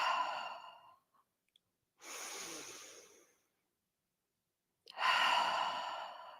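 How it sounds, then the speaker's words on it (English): Three slow breaths during a relaxing yoga session, each a soft airy inhale or exhale through nose and mouth lasting about a second or more, separated by near silence; close and gentle with no talking. "Breathing in through the nose, out through the mouth."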